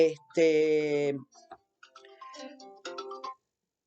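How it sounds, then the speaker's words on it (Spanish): A phone's electronic ringtone plays a short melodic run of bright, clear tones that break off, then resume briefly before stopping. "me está sonando el teléfono"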